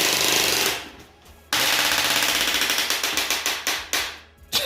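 A Pontiac G6 car gives off a loud, rapid rattling burst like gunfire, with a sharp onset after a brief lull and a run of evenly spaced clattering pulses that fade and return.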